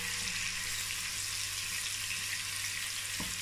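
Onions fry in a pan for jollof rice with a steady, dense sizzle from start to finish, fairly close and even in level, with a brief utensil scrape near the end and no talking.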